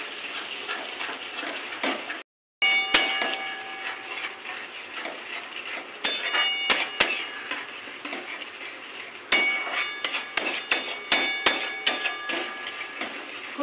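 Spices for a potol and prawn curry being stirred and fried in a pan, with a spoon scraping and clinking against the metal in frequent close strokes over a soft sizzle, briefly broken by a moment of silence.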